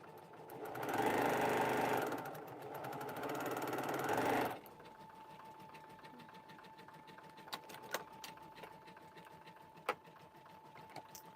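A sewing machine stitches name badges, running close and steady for about four seconds in two bursts before stopping, then faint clicks and handling noises.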